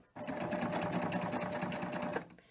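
A serger overlock machine stitches along a fabric edge with a loud, steady, rapid whirring hum up close. It starts abruptly and runs for about two seconds before stopping.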